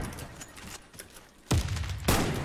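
Two loud, close gunshots ring out in a shooting video game, one after the other, each with a booming tail, after a quieter stretch of faint game noise.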